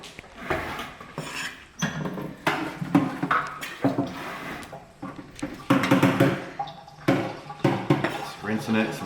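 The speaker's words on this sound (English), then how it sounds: "Just rinsing it, some filtered water." A leek rinsed under filtered water in a home kitchen, with splashing and rubbing bursts in uneven runs over several seconds, close and fairly loud, mixed with clatter from dishes.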